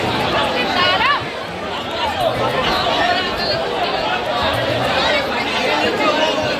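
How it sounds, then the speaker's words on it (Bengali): A crowd of passengers scrambles to board a train at Kalyani during the Sati Mayer Mela, with dense overlapping chatter, shouts and hurried movement throughout, loud and close. "ট্রেনে ওঠার জন্য হুড়োহুড়ি লেগে গেছে, দেখতে পাচ্ছ"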